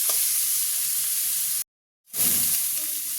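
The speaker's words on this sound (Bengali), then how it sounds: "এবার আমি এটাকে ভালোভাবে নেড়ে চেড়ে ভাজা ভাজা করে নিই।" Pieces of fish are stirred and fried in hot oil for a village-style masala fry. A loud, steady sizzle breaks off into a moment of dead silence, then resumes with pan-scraping stirs.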